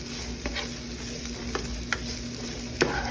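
Philly steak ingredients sizzle in a pan while being stirred, with a steady frying hiss and a few distinct scraping clicks from the utensil, close and clear.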